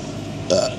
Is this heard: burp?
yes